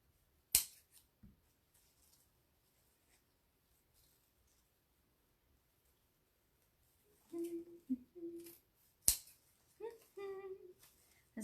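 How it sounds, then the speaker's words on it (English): Scissors snip ribbon tails on three large decorative bows, sharp isolated clicks at first, then a cluster of quick close cuts and rustling, quiet overall with faint murmuring. "I know cutting tails is not fun, but when you got 3 large bows, there's going to be some tails to cut."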